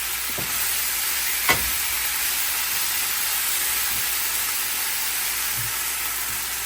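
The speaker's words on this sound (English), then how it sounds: "Now I'm going ahead and add the shrimp." Shrimp and fresh thyme frying in a pan for Jamaican pepper shrimp, giving a steady, even sizzling hiss throughout with one brief clink near the start and no talking.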